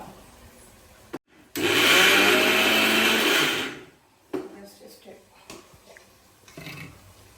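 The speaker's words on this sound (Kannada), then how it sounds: "ಆ್ಯಂಡ್ ಈಗ ಇದು ದೊಡ್ಡ ಮಿಕ್ಸಿಯಲ್ಲಿ ನಾವು ಕಾಯಿ ಮಾಡೋಣ" A large mixer grinder grinds fresh coconut in a short, loud whirring burst of about two seconds, starting and stopping abruptly, with quieter kitchen clatter before and after.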